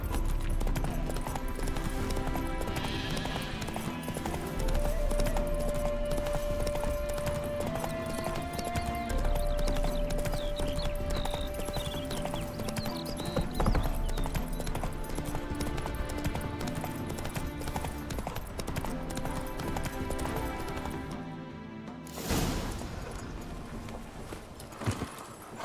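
The horse Roach clip-clops at a steady galloping rhythm through an outdoor video game scene, with a brief whinny and game music underneath; the hoofbeats stay prominent and close for most of the run before a sudden break near the end.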